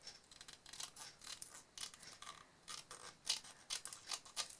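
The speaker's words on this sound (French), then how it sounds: "Je vais découper que les côtés." Scissors snip through leftover paper scraps, trimming only the sides, in a quick irregular series of crisp close cuts with no talking.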